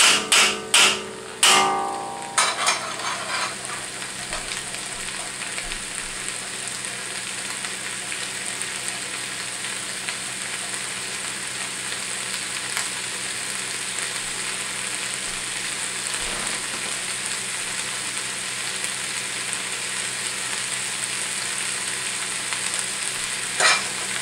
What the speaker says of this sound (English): Make sure to keep it stirring just to keep things from sticking to the wok.